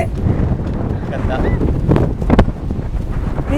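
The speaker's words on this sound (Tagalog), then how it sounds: "Grabe yung hangin, di ba?" Strong wind buffets the microphone on a mountain farm with goats, honeybees and orchards, a steady loud roar with gusts rising and falling throughout, while a voice speaks faintly under it.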